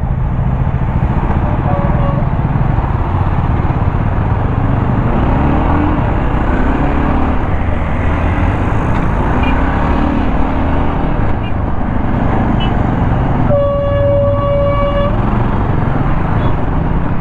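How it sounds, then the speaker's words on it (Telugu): Heavy road traffic in Chennai from a motorcycle, a steady dense rumble of engines with scattered horn toots, including a clear honk near the end. "సో ట్రాఫిక్ అయితే చాలా హెవీగా ఉంది"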